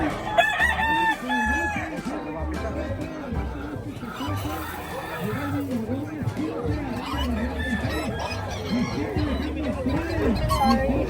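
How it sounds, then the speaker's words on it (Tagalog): Roosters crow repeatedly at a poultry show, several birds overlapping in a loud, dense chorus with clucking throughout, while a crowd chatters and talks in the background. "Ito yung manok natin."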